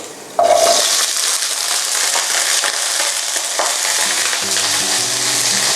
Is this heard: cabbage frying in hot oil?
yes